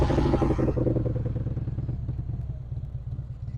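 A motorcycle engine blips and then settles into a lumpy, pulsing idle during a slow practice turn, loud at first and easing off as the throttle drops, close to the listener.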